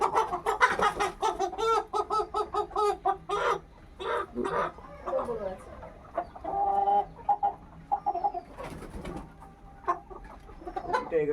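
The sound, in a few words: chickens clucking at a chicken farm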